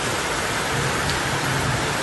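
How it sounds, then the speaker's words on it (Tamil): Heavy rain pours down steadily in Adirampattinam, a dense, loud, unbroken hiss that fills the short stretch with no voices over it. "பைப்பு தண்ணி திறந்துட்ட மாதிரி ஊற்றி வரீங்க அப்படி மழை நான் பார்த்ததில்லை"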